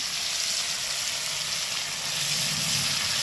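Paneer cubes deep frying in oil give a steady, loud, close sizzle that bubbles on without a break.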